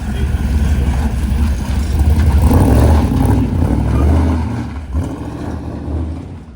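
A classic car's engine rumbles loudly and steadily as it pulls away at a Henley classic cars and coffee meet, the low drone swelling then easing off as it drives out of the tight corner.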